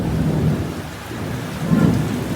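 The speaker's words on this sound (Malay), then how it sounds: "Hari ni hujan guys." Steady rain with rolling thunder outdoors, low rumbles swelling near the start and again toward the end over a constant wash of falling rain, with no voices.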